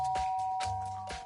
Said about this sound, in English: I pressed the doorbell.